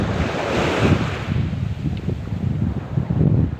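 Strong wind and breaking surf on the shore during coastal squid fishing, a continuous roar of waves with heavy wind buffeting the microphone, loud and close with no speech.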